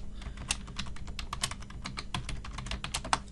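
Password keystrokes typed on a computer keyboard at an Ubuntu Server 12.04 terminal, a quick irregular run of clicky taps, close and steady, with no talk.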